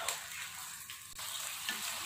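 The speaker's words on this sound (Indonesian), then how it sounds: "Ini diaduk terus." Rendang sauce with egg boiling in a pan as it is stirred, giving a steady close hiss and bubbling sizzle with faint scraping, no voices.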